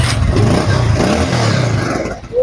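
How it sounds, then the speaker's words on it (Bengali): A second-hand Bajaj Pulsar 150cc ABS motorcycle engine runs close by, a steady throaty rumble with slight revving swells and no talk over it. "দেখতেছেন ইঞ্জিন সাউন্ড একদম কিন্তু সুপার ফ্রেশ।"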